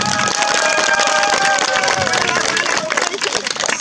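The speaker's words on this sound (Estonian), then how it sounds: "Teeme neile kõigil üks kõva aplaus" A crowd applauding a group of boys at a gathering, dense clapping and cheering close by, with voices mixed through it.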